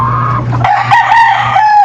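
Yellow-legged rooster crows loudly and close by, one drawn-out, warbling call that fills the whole moment, with no talk over it.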